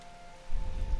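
Rain in the Tales of Vesperia video game starts as a faint hiss and then swells into a denser patter over a low rumble for about a second, with a thin steady tone running underneath.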